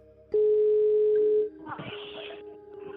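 A telephone call's ringing tone over a speakerphone: a single long steady tone for about a second, then a voice talking over the line with a quieter tone continuing underneath.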